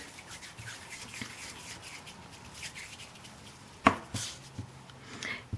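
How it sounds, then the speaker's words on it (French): A knife cuts through a ball of Fimo polymer clay, soft, faint scraping and slicing strokes with one sharper tap on the work surface and a few quieter cuts after it, set close against a quiet background. "Et je la coupe encore dans tous les sens."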